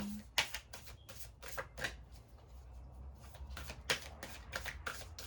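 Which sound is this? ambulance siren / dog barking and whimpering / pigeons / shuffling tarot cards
shuffling tarot cards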